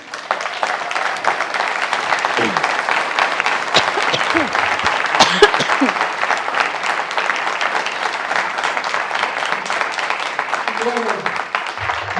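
Sustained audience applause at a book relaunch event, a dense steady clapping from a large crowd, loud and continuous throughout with scattered voices and cheers mixed in.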